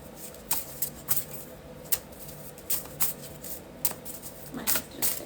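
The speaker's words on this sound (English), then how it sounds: "These are so hard to shuffle." Tarot cards being shuffled by hand, heard as a series of soft, crisp riffling bursts in an irregular rhythm, close and fairly quiet with no talking.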